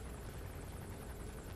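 A helicopter in Metal Gear Solid V: The Phantom Pain, a steady, dense rotor-and-engine roar holding constant for the whole short stretch, with no talk over it.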